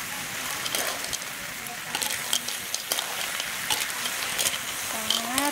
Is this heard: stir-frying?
yes